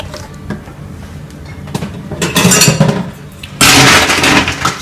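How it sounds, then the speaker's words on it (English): A bartender stirs a Dempsey cocktail in a glass rinsed with absinthe: ice clinks and rattles against the glass in irregular bursts, growing louder and denser toward the end. "Just stirring up the cocktail."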